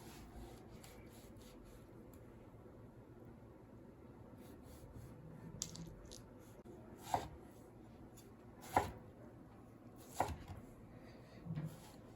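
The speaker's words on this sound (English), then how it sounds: "Here we chop the tomatoes up in cubes" Knife strikes on a cutting board while tomatoes are cut into cubes for a raw vegetable salad, a few sharp separate chops spaced a second or more apart over a low room murmur.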